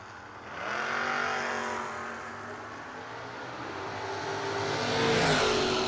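A Camaro drag race car launches down the strip at a no-box 660 shootout, its engine rising in pitch through the gears as it pulls away, loud and sustained over the roar of the track.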